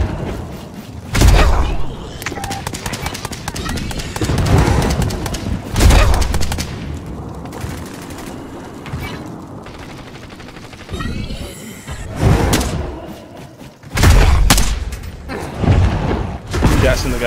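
Gunfire in Warzone Zombies, repeated loud bursts of shots and booms in uneven clusters, some close and some farther off, with a player talking excitedly between them.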